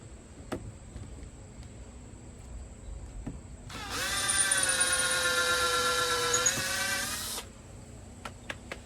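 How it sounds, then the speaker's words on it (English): An electric drill boring holes deeper into wood for a needlework project, a steady mid-level whir lasting about four seconds in the middle with quiet room noise before and after. "I'm gonna drill my holes a little bit deeper"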